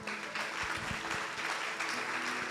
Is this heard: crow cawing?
no